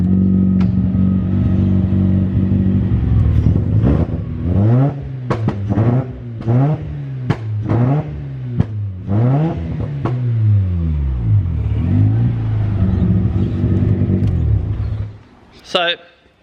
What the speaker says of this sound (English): So the pops and bangs definitely work really well